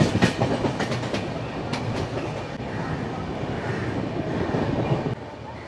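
The 12021 Howrah Barbil Jan Shatabdi Express runs through Santragachi junction without stopping, heard from on board as a steady rumble with rhythmic clickety-clack of wheels over rail joints, loud and continuous, easing off near the end.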